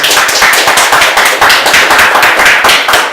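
An audience at a lecture on local politics claps loudly and close, a dense run of sharp hand claps with pulsing rhythmic accents throughout.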